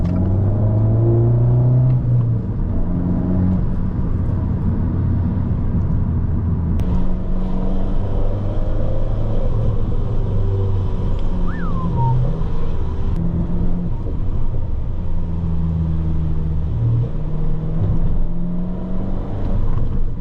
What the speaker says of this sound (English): Oh, don't know if you guys can hear that turbo.